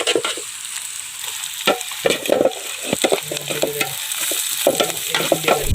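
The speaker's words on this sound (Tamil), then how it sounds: "வெங்காயம் நல்லா வதங்கணும்." Onions sauté in a pan for a tapioca and chicken gravy: a steady close sizzle broken by repeated spatula scrapes and stirring knocks, with no talking.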